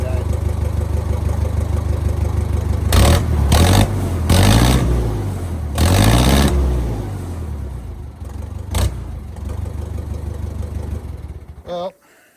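A Case 430 tractor engine with a badly leaking exhaust manifold runs loudly, surging through several rough revs before settling and finally cutting off, with a voice briefly heard.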